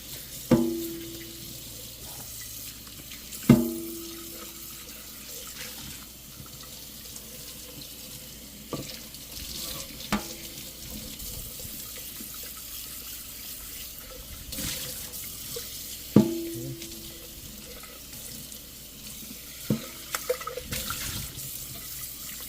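A kitchen tap runs water over a dish being rinsed after a dish-spray cleaning test, with a quiet steady flow broken by a few sharp clunks and knocks of the dish.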